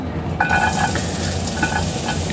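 Hot oil sizzles in a wok as garlic goes in for a chicken curry, a bright crackling burst with a stirring clatter, rising again briefly near the end.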